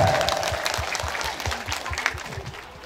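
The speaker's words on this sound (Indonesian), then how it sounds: "Tepuk tangan semuanya, tepuk tangan" Students at an Islamic boarding school applaud during a Q&A session, a loose round of clapping with distinct hand strikes that tapers off over a few seconds.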